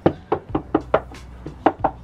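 Knuckles rapping on the door of a 100 Series Land Cruiser, about eight firm, close knocks in a fairly steady rhythm, each a short dull thud with no talk over them.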